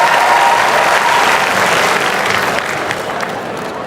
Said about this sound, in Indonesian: kita kasih tepuk tangan untuk Pak Anton